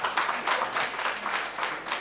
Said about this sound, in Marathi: त्यांच्यासाठी आपण खरंच टाळ्या वाजवू शकतो.